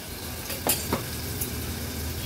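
Thick ground spice paste for pomfret curry sautéing in hot oil, a steady soft sizzle with a couple of brief scraping stirs near the start, close and moderately quiet with no talk.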